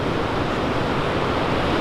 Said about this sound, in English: it's really, really loud here with all of the waves and the ocean going on